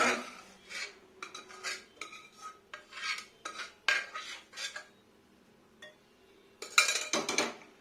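A metal spoon scrapes and clinks against a pan while chana dal curry is scooped into a serving bowl, in a close, irregular series of short scrapes and knocks, no voices.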